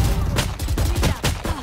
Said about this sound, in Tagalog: Ay, binaril ako ni Shai.